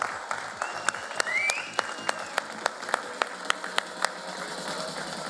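Applause from an audience at a Paragliding World Cup awards ceremony for the women's category winners: a thin scattering of sharp claps, fairly evenly spaced, over a low steady background hum.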